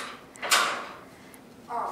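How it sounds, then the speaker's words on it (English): A door in a vacation rental house closes with one sharp thud followed by a fading rattle, then a softer scrape of movement a moment later. "Landon, I need you to get out so we can close the door again."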